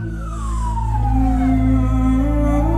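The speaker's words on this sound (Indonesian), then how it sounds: "Dan ambulan memang segera menuju ke depan stage." An ambulance siren wails loud and close, its pitch sweeping down and back up in a steady continuous tone at an outdoor stage event.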